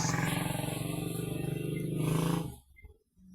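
A loud, steady engine drone with a low rumbling tone runs for about two and a half seconds, then cuts off into near silence with a faint thump.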